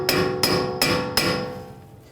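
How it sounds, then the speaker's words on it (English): Hammer tapping the rear wheel hub of a 2013-2016 Dodge Dart during a rear wheel bearing and hub replacement, four sharp ringing metallic knocks at an even pace, close and clear with no talking. "Use a hammer, give it a tap."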